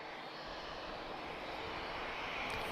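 A TAP Air Portugal airliner taxiing at Lisbon Airport gives a steady, broad jet-engine roar that holds even and slowly swells slightly toward the end, with no voices over it.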